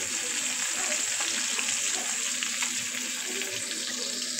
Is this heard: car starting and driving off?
no